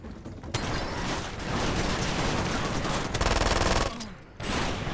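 Dense rapid gunfire from the video game Far Cry 2, sustained bursts with brief pauses, loud and continuous across the clip.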